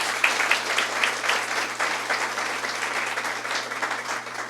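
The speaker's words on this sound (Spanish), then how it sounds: "Dale ese fuerte aplauso a la palabra de Dios." Steady, enthusiastic clapping from a church congregation during a Catholic service, a dense continuous patter lasting several seconds with no speech on top.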